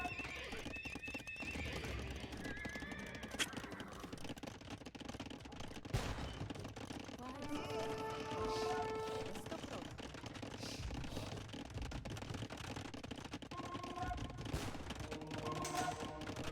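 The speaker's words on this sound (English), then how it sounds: "Hand cannons have been added to T90's army." Hand cannon gunfire from an Age of Empires-style strategy game in a tournament grand final, sharp cracks and bursts popping amid busy battle noise with horse neighs and hoofbeats, a dense and continuous mix.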